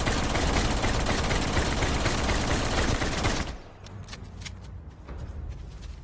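Sustained rapid gunfire in a video game, aimed at a charging giraffe, roaring loud and dense for about three and a half seconds, then cutting off to quieter scattered shots and ambient noise.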